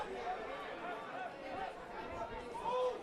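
Crowd chatter from spectators at an evening soccer match at the Community Sports Complex, a steady murmur of many voices with no single speaker standing out, at moderate level throughout.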